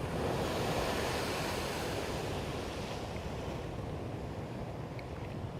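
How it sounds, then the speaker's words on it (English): Ocean surf rolls in along the rocky shore at Kona, Hawaii, a loud continuous wash of breaking waves with wind buffeting the microphone throughout. "Oh, there's some waves coming in."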